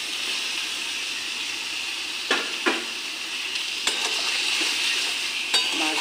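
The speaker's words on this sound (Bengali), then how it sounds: "মাছটা ফোড়নের সঙ্গে মিশিয়ে নিই।" Fried boal fish gets stirred into spices in a hot pan over a loud, steady sizzle, with a few distinct spatula knocks and scrapes against the metal.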